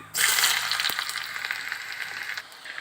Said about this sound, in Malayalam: ചൂടായ എണ്ണയിലേക്ക് അര ടീസ്പൂൺ കടുക് ഇട്ട് കൊടുക്കാം കടുക് പൊട്ടി വരുമ്പോൾ രണ്ട് മൂന്ന് ചുമന്നുള്ളി വട്ട വരുന്ന് ഇതിലേക്ക് ഇട്ട് കൊടുക്കാം